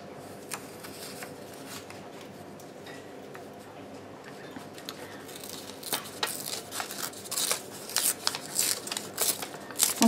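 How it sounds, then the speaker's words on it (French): Scissors snipping through post-it notes to cut mountain shapes, a quiet background hum at first, then a run of crisp, irregular cutting and paper-rustling clicks growing louder toward the end. "je vais avoir besoin de post-it que je vais découper"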